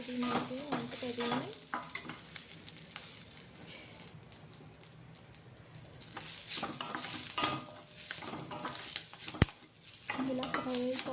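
Drumstick leaves frying in oil in a pan, a faint continuous sizzle with occasional stirring scrapes and one sharp clink, heard under intermittent talking.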